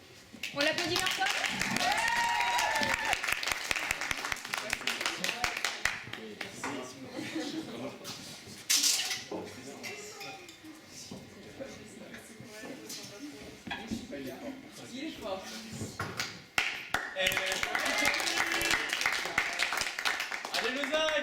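Crowd applause fills the room, dipping in the middle and then swelling again, with voices heard over the clapping.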